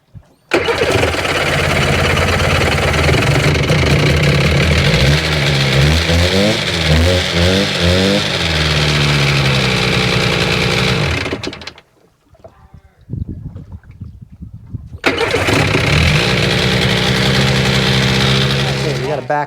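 A Seadoo RFI 787 jet ski engine that is hard to start runs loudly at a rough idle for about eleven seconds, dies briefly into sputters and clatter, then catches and idles again.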